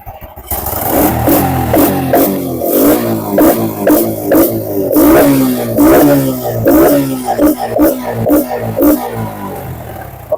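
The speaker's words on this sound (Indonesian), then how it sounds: "Oke, kita coba tarik-tarik tuas gas ya teman-teman." A Honda Blade motorcycle engine at close range, revved repeatedly by hand throttle, loud rhythmic bursts of rising and falling engine roar over a steady idle.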